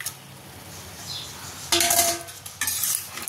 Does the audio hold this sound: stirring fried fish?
yes